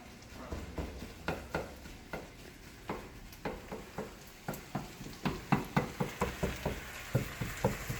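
Sausage sizzles softly in a frying pan on low heat while a utensil breaks it up, giving a steady run of sharp scraping and tapping strokes against the pan, close and fairly loud, with no talking.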